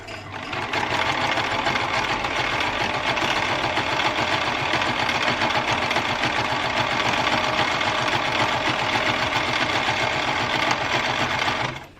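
A sewing machine runs a continuous straight stitch along the hem of a fabric face mask, a loud, steady, fast mechanical whir close up for about eleven seconds before it stops.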